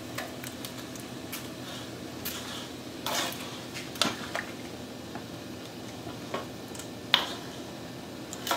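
A spoon clinks and scrapes against a metal pot while pushing dry spaghetti into boiling water for a fish sauce dish. Light taps and knocks come at irregular moments over a low bubbling background.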